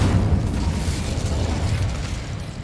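The Incendio fire spell being cast in Hogwarts Legacy, a loud dense whooshing burst of flame with a rough crackling roar that holds steady and tapers slightly, with no voices.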